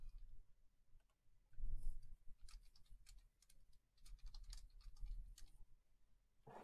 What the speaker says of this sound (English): I'll be typing these in so I can randomize them.